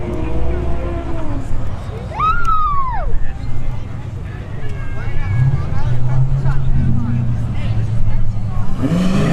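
A Mopar 392 Scat Pack car rumbles low at ShowTime Dragstrip during street drag racing, a steady engine drone under a talking voice and crowd babble, with a brief rising whine early on.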